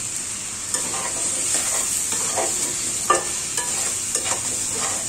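Potatoes, tomato and green chili fry in a hot pan with a steady bright sizzle, broken by repeated scraping stirs of a spoon against the pan at an irregular pace, close and fairly loud, with no voices.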